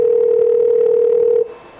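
A steady, loud telephone line tone at the start of a recorded 911 emergency call holds for about a second and a half, then cuts off abruptly, leaving faint line hiss.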